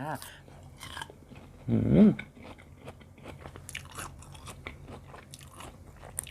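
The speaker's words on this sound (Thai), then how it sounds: "เดี๋ยวไอจะมาลองกินให้ดูค่ะ" Someone bites into a large, long pod of candied tamarind, giving one close, brief crunchy bite followed by soft chewing, with someone talking before and after.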